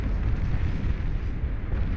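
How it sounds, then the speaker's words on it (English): The Cerberus cannon in the strategy game Beyond All Reason fires in a continuous low rumbling barrage, a dense, loud bass roar that holds steady without clear separate blasts. "Cannon comes up and online, just in time to start firing away."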